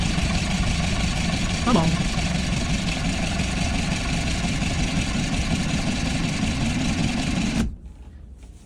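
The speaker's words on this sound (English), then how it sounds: "now we're gonna crank away, see what happens" An engine on an abandoned project truck with a fuel system being restored, cranked by the starter: a steady, continuous churning drone for about seven and a half seconds that stops abruptly, with a brief spoken word over it.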